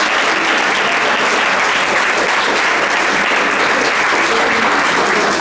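An audience at an Armenian public program applauds loudly and steadily, a dense and sustained wash of clapping from many hands that fills the whole stretch without pause.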